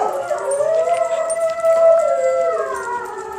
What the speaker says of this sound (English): You hear the barking in the distance here?